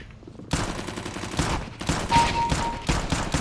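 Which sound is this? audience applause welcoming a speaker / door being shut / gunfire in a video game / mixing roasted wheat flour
gunfire in a video game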